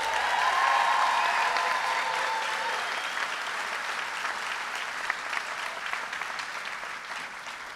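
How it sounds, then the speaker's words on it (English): Steady, full audience applause at a 2019 high school graduation ceremony, continuous and fairly loud throughout, with a brief voice near the start. "Let's give our speakers another round of applause,"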